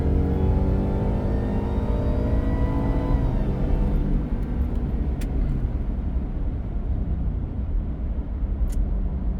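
Ford Raptor R engine fitted with an S&B cold air intake revving hard and loud, pitch sweeping upward with a whining intake note before settling into a steady drone, no talking.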